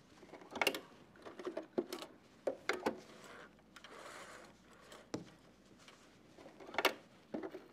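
Sewing machine stitching in short bursts of clicking, whirring mechanism with brief pauses between runs, close and fairly quiet.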